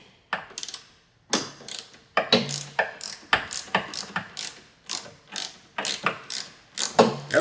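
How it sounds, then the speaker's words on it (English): A ratchet wrench spins a 14 mm nut on the rear shock of a Kawasaki Ninja 400, giving close, rhythmic bursts of clicking pawl strokes, one after another with brief pauses between them. "Just go ahead and get that spinning, then I'll put a backup wrench on it."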